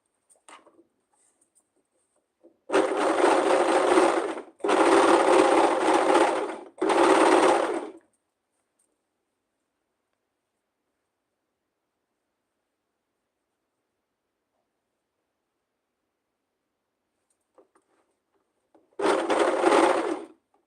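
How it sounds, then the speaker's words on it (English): Overlocker serger stitching fabric seams for homemade underwear, running in three loud close bursts with short pauses, then silence and one more burst near the end, no voices. "And I'm going to overlock that."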